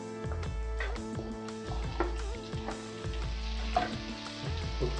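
Chopped tomato goes into a pan of sautéed onions for egg burji, bringing a steady sizzle of frying with scattered clinks and stirring scrapes of a utensil against the pan, close up and with no talk.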